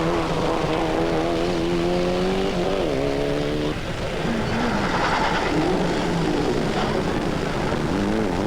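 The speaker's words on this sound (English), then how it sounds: "the Renault sounds as healthy as ever" A Renault rally car at the 1995 Boucles de Spa rally, its engine howling loud and continuous, the pitch climbing and stepping between gears with a harsh, raspy edge and no pause.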